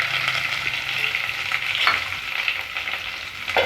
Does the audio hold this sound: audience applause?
no